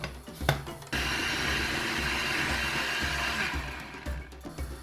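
A blender whirs steadily at close range, starting after a brief clatter and running continuously with a rough, grinding texture as it purées garlic cloves with other sauce ingredients.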